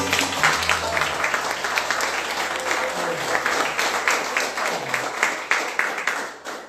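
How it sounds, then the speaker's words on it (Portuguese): A church congregation applauds steadily with dense, sustained clapping, fairly close, a few voices faintly mixed in. "uma salva de palmas para Jesus."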